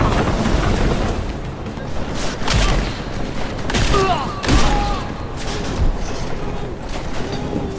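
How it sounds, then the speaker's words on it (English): Video game gunfire and blasts rattle on continuously, with heavy booms layered over dense, noisy battle sounds throughout. "He keeps shooting at it."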